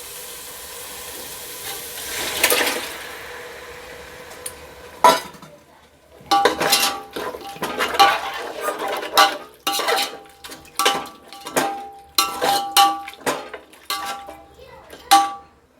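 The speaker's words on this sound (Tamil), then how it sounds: "இப்போது நம்ம வேக வச்சுருந்த அந்த கறியை வந்து மிக்ஸ் பண்ணுறோம்" Cooked mutton being stirred into a Dindigul-style seeraga samba biryani pot, with a run of metallic clinks and scrapes of a ladle against the pot after a quieter start, and a voice briefly present.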